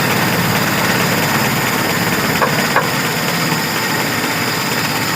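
Carbureted car engine idling steadily at a raised idle speed, a continuous close hum with an even low rumble and no talk.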